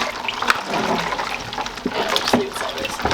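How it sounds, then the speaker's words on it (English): Cold tap water runs over a raw turkey and into its cavity, a steady splashing gush close by with small spatters, while a person talks over it. "Ooh, that's cold water."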